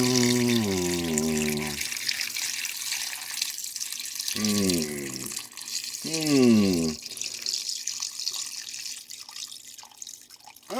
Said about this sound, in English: So now I'm going to add water, and I kind of like to eyeball it.